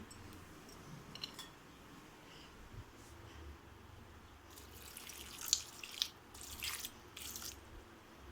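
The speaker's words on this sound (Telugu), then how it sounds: "వాటర్ వేసుకుందాము కొంచెం." Water is poured into a pot on a lit stove to half-boil raw banana (aratikaya) for frying. Soft splashing and trickling come in a few short bursts near the middle, fairly quiet, with no talking.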